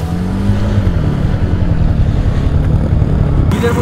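A hired boat's engine runs steadily and close during a group river trip, a constant low droning hum with wind rushing past the microphone.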